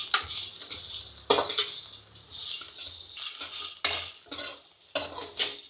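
Masala of spices, poppy seeds and a tomato is stirred and fried in a pan for a Mandya-style chicken green gravy, with loud, repeated metal spoon scrapes and clatters in bursts and little audible sizzle.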